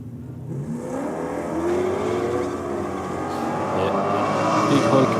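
A drag racing ute launches at a no-prep meet in Australia, its engine building into a loud, sustained roar of acceleration, heard from a distance over a crowd's hubbub.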